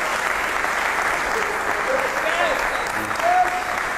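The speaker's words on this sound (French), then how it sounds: "On va applaudir pour lui." Studio audience applauding on a 1999 Congolese music television show, a dense steady clapping that fills the whole stretch, with faint voices mixed in under it.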